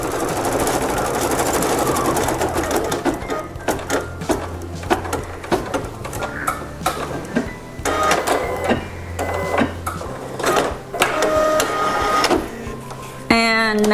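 A sewing machine runs a trimming line of stitches across a quilt block, a close, loud mechanical whir in bursts with short stops between runs.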